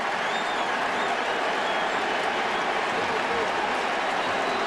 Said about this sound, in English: is it Boston fans saying Uke, or is it Yankee fans booing Farnsworth?